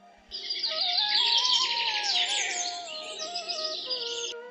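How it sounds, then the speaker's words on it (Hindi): Cartoon-style forest birdsong rises in a bright stream of overlapping chirps and tweets, fairly clear and continuous for a few seconds with no voices. "पक्षियों की चहचहाहट फिर से जंगल में सुनाई देने लगी थी।"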